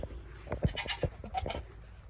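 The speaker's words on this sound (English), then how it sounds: "Let's go feed the goats. And here's our goats." Goats bleat faintly in a few short calls amid light rustling and shuffling nearby, no voices speaking.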